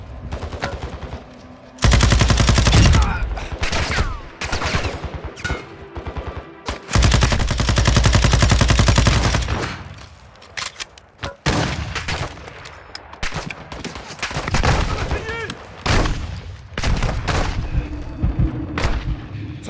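Heavy automatic gunfire in Call of Duty Modern Warfare 2 DMZ at Al Mazrah comes in long, loud sustained bursts. Shorter volleys and booming impacts are scattered between them, with brief lulls in between.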